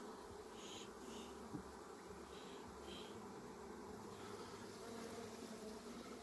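Honey bees buzz in a thick, steady drone during a spring hive inspection, a continuous close swarm hum with faint occasional clicks and no speech.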